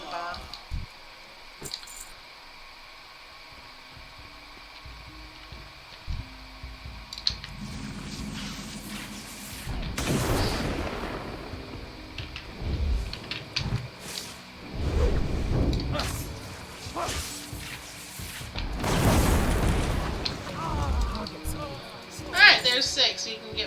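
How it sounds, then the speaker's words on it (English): Several heavy, broadband blasts from bombs exploding in World of Warcraft burst out around the middle and end, each a short rumbling boom over steady game ambience and music. "Let's get away from the bomb."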